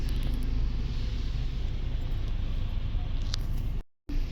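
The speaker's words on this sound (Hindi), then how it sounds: "देखो हर तरफ ट्रैफिक ही ट्रैफिक है" Weekend road traffic in Ludhiana, India, heard from inside a car: a steady low engine and road rumble with faint passing vehicle noise, briefly cutting out near the end.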